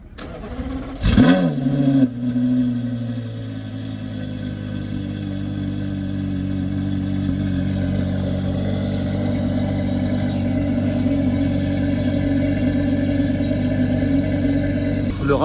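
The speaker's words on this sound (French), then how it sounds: "On va entendre le V10, ça froid." A Porsche Carrera GT's cold V10 fires up with a sharp starter burst and blip, then settles into a loud, steady, deep idle that holds smoothly and slightly rises as it warms.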